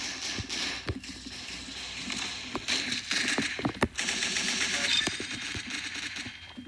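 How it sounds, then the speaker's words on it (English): Bursts of machine gun fire in the online shooter game Arsenal, rapid clattering volleys mixed with single sharp shots and mechanical game effects, fairly loud and continuous over several seconds. "Oh, I got like a really cool machine gun."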